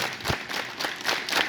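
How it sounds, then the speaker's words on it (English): Students at a school assembly clap together in a rhythm, sharp group claps recurring in a loose beat at moderate loudness. "hands up, clap together"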